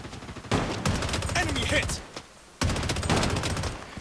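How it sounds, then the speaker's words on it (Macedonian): Bursts of rapid shotgun fire in the video game Call of Duty: Warzone Mobile crack out in two long volleys, loud and close, with a brief lull between them and a few isolated shots. "овој со шатган има пука"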